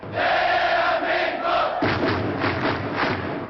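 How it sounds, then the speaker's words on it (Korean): Red Devils supporters' cheer for the South Korean team, a loud sustained crowd chant of rhythmic voices filling the whole stretch with a brief break midway. "붉은 악마 응원"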